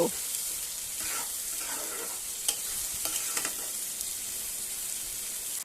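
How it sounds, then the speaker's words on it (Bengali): Masala with ginger-garlic paste frying in a pan while it is stirred, giving a steady close sizzle with occasional scrapes of the spoon. "এবার আবারও খুব ভালোভাবে নাড়াচাড়া করে মশলাটাকে কষিয়ে নেব"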